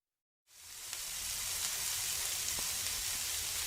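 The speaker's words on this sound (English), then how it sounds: "That's the sound of steaks on a grill." Filet mignon steaks sizzle on a grill: after a short silence a steady hiss starts up and holds, with a few faint pops, fairly quiet and with no talking.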